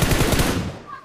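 Rapid automatic gunfire in PUBG on the Livik map, a loud close burst of shots that quickly fades to near silence.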